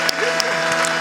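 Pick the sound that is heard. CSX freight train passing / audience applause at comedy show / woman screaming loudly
audience applause at comedy show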